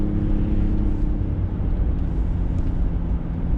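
A 1997 GMC Sonoma SLS compact pickup truck driving on the road, a steady loud low engine drone and road rumble heard from inside the cab, with no talk.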